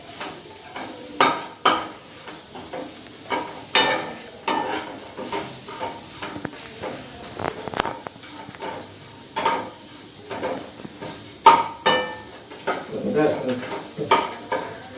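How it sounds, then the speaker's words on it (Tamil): Grated coconut crackles and pops, sizzling as it dry-roasts in a hot pan, with frequent scraping stirs and clinks of a spoon against metal, close up. "கொஞ்சம் சுறுசுறுன்னு சத்தம் வருது. அந்த சத்தம் கொஞ்சம் நிற்கட்டும்."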